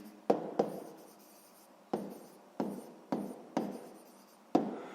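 A pen writes on paper during a sixth-grade maths exercise, making a run of sharp scratchy strokes: about seven distinct taps and scrapes with short trailing scratches, close and fairly quiet.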